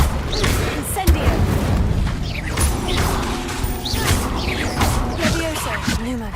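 Incendio fire spell cast in Hogwarts Legacy, a loud whooshing burst with booming, crackling impacts layered among other spell effects and game sounds, dense and continuous throughout.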